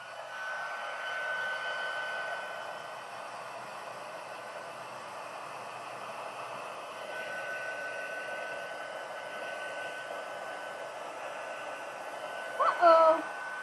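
A hair dryer blows steadily to dry a freshly painted watercolor card, a continuous close whooshing hum that runs throughout with slight shifts in intensity and a brief louder burst near the end.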